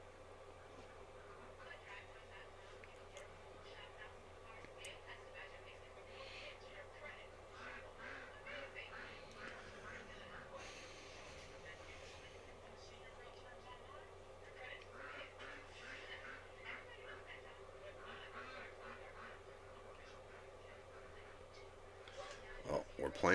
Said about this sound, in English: I got duck sounds in the background.